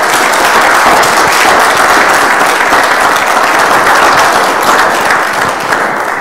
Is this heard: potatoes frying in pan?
no